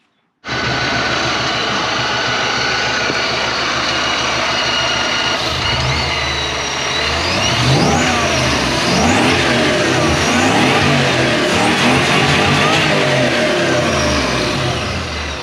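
A supercharged Toyota 1UZ V8 in a 106-series Hilux 4x4 cranks and fires, settling into a loud rough idle before several throttle blips send it revving up and down, close and dominant, with no talk over it.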